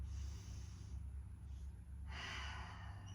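Slow, deep breathing during a stretching cool-down in a legs and glutes workout, a soft airy inhale followed by a louder, rushing exhale, close and quiet with no talking.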